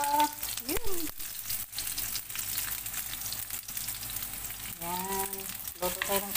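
Red onion sizzles steadily in a hot pan for chicken tinola, a close, even frying hiss with brief voice-like tonal sounds at the start and end.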